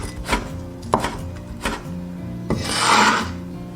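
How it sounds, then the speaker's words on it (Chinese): A knife chops dried chili peppers into small pieces on a board, with four or five sharp, separate thuds followed by a rougher scraping rub at the end, close and alone. "准备几根干辣椒，切成小粒。"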